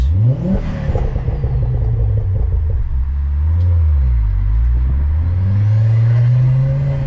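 Modified Ford Focus engine revving up close, a loud rumbling climb in pitch that drops, dips and rises again into a sustained high rev, with no talk.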